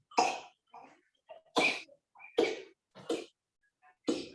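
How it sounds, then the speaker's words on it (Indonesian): Several bursts of coughing heard over a Zoom seminar call, about six harsh coughs spaced irregularly with short pauses between them, fairly close and loud, with no talking. "ada yang batuk-batuk nih."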